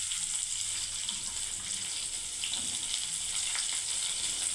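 Okra frying in a pan at home, a steady, even sizzle and hiss of hot oil running continuously at moderate volume with no talk over it.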